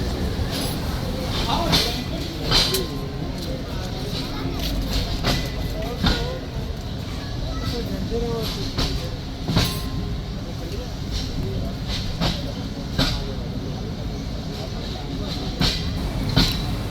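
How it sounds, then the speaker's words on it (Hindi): An express train running on the tracks toward Karachi, a continuous loud rumble with rhythmic clicks and clinks of wheels over rail joints, while people talk nearby inside the carriage. "ट्रैक साउंड भी बहुत प्यारी प्यारी आ रही है"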